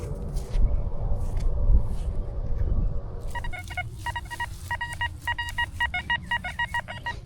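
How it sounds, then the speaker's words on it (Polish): Metal detector in a meadow gives a high-pitched target signal, a run of rapid, pulsing electronic beeps that starts after a few seconds of rustling and handling noise. "kolejny wysoki sygnał do kopania"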